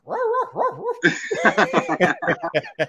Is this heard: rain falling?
no